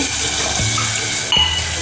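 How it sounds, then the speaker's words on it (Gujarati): A little water poured into kantola curry cooking in a pan, a short close splash and gurgle of liquid. "તો હવે આને આપણે સહેજ પાણી નાખશું ચડવા માટે"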